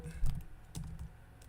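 Fingers typing on a computer keyboard, a short burst of soft irregular key clicks with a couple of louder taps, fairly close and quiet.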